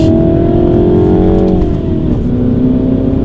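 A manual Mini John Cooper Works, front-wheel drive, with its engine droning loud and steady as it pulls under throttle through a sharp left turn, pitch settling briefly midway, heard close up with no talk.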